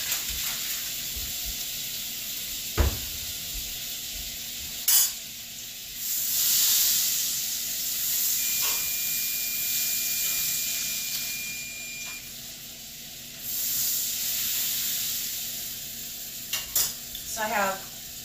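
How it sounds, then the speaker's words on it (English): Butter sizzles in a pan as minced garlic and shallots go in to saute for chicken Florentine. A soft continuous hiss and steam rise in surges, with a few sharp clanks and stirring scrapes close by. "I'm going to throw in a couple of tablespoons of butter, and we're going to saute our garlic and our shallots"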